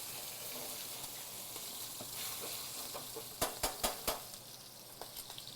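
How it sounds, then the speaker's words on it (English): Short ribs searing in a hot pan, a steady low sizzle throughout, followed near the end by a short run of sharp clinks and knocks from a utensil against the pan. "Short ribs are searing off."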